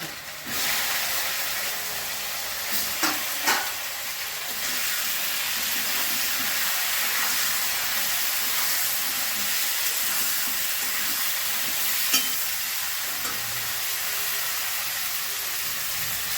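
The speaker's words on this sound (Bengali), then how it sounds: "এবার আমি ফুলকপিগুলো দিয়ে দিচ্ছি" Cauliflower frying in a pan hisses and sizzles in a steady, even wash of crackle that lasts throughout, with a few small clatters early on and no talking.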